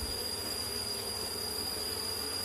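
Apis cerana bees buzz around a wooden hive box in a forest, a steady, even drone that carries on alone without pause and with no voices.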